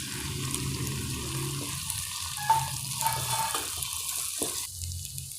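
Onions and tomatoes sauté in a pan as potato coconut gravy is cooked, giving a steady sizzling hiss with occasional stirring scrapes and a brief change in tone near the end.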